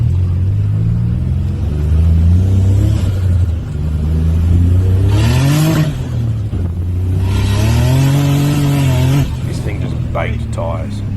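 A turbocharged V6 Holden VY Commodore, freshly tuned, drives with a steady loud engine drone that climbs and falls in pitch as it revs up and eases off, with a voice talking over it.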